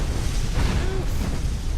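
A dragon's fiery breath weapon in the video game Skyrim, a loud, steady roaring whoosh of flame with a deep rumbling body sustained throughout.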